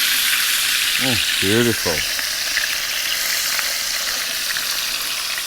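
A tomahawk steak sears in olive oil in a hot pan, giving a steady, loud frying sizzle throughout, with a brief spoken word partway through.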